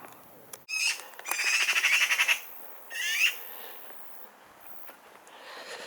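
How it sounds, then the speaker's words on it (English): A bird squawks loudly nearby in a rapid harsh burst, then gives one more shrill squawk before quieting, with outdoor ambience behind. "Noisy bird."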